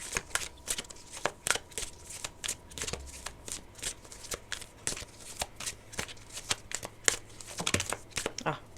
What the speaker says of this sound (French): Je vais reprendre 2 cartes, comme tout à l'heure. Et on va continuer avec l'autre tarot.